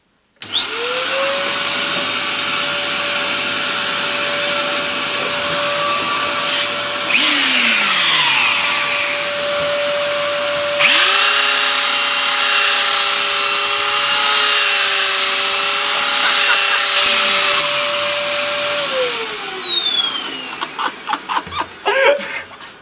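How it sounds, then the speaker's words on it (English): A belt sander hooked up to a dust extractor runs loud and steady for about twenty seconds, with a constant vacuum-like whine joined by rising and falling grinding as the sanding belt works, then winds down at the end. "we've got the belt sander connected up to the extractor, and let's give it a go"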